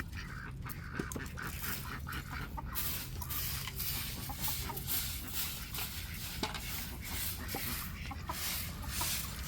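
Hens cluck and chatter continuously amid a busy farmyard hiss, with scattered clicks and scratching, fairly faint.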